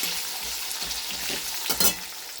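Cashews, raisins and nuts fry in hot oil in a pan with dry red chilli, cinnamon and bay leaves, giving a close, steady sizzle. A spoon scrapes and stirs through it, with a sharper clatter near the end.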